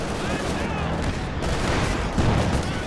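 Machine gun fire in a Company of Heroes 2 match: a dense, continuous stream of rapid shots and battle noise holding steady for a few seconds, with talk over it.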